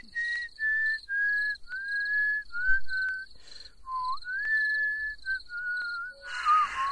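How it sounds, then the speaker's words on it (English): A character whistles a Christmas carol in the video game Fallout 76, a clear melodic tune of sustained notes with brief pauses, set against a faint insect-like chirping background. "He's whistling Christmas carols in October."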